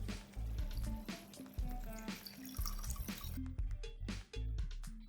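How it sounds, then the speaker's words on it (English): Water splashes and drips into a pot of chicken biryani rice in uneven bursts, a close, bubbly pouring sound with short gaps between gushes. "we're going to add 5 cups of water to this"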